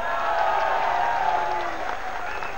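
Sustained clapping from a large crowd at a Congress rally in Depalpur, dense and loud throughout, easing slightly toward the end.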